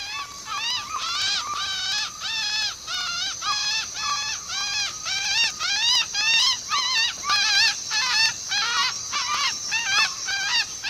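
A hunter in the Amazon jungle imitates a bird call with his voice, making a long series of rhythmic, honking, rising-and-falling calls repeated steadily and close up.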